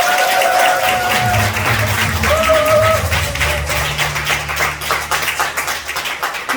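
An audience claps after a business presentation: steady, dense applause from many hands fills the room, with a host's amplified voice and background music tones over it, thinning slightly toward the end.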